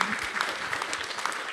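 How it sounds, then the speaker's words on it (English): Steady applause from an audience filling the room at an award-show gathering in Nashville, a dense even patter of clapping hands with scattered faint voices mixed in, sustained throughout without a break. "I appreciate the applause"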